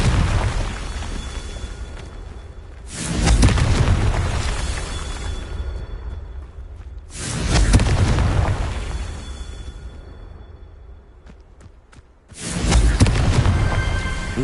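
Three booming blasts from the Confringo explosion spell in the Hogwarts video game, each a loud burst with a long rumbling tail, spaced several seconds apart, with no talking.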